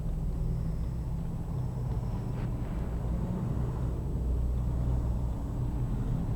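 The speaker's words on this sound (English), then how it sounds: "what would a parade be without a tractor in it, right?" A tractor rolls past in an Easter parade, a low, steady engine rumble sitting fairly distant under a broad outdoor hiss, continuous and unbroken with no voices.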